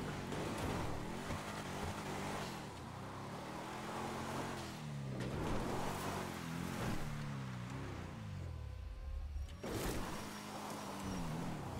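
Coil Brawler off-road car driven on rough terrain in GTA 5 Online, its engine revving up and down in repeated rising and falling sweeps alongside continuous rushing noise, fairly quiet overall.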